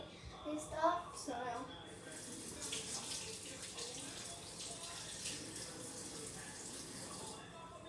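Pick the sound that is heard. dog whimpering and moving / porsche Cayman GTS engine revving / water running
water running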